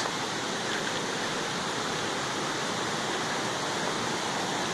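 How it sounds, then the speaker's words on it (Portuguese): Kuang Si waterfall in Laos, blue water pouring steadily in a dense, even roar of falling water that fills the whole stretch without pause, close and loud with no voices. "cachoeira, coisa mais linda."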